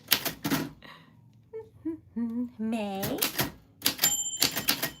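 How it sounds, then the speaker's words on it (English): Typewriter keys strike in quick clattering bursts, broken by a pause, then a bright bell ding as more keys rattle. Voices talk over parts of it. "your name fell on the typewriter bell"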